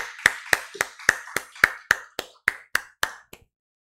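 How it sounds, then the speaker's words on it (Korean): A church congregation at a Friday worship service claps in unison, about a dozen crisp, evenly spaced claps at a brisk steady rhythm before stopping, with no talk over them. "우리 하나님께 큰 영광의 박수합니다."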